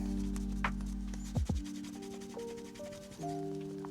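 Cloth burnishing a leather edge with Tokonole, a steady rubbing friction with tonal squeaky resistance lines, close and fairly quiet, with a few brief sharper scuffs partway through.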